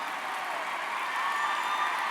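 A commencement audience applauds as a dense, steady wash of clapping that swells slightly toward the end, sounding like a large hall full of people.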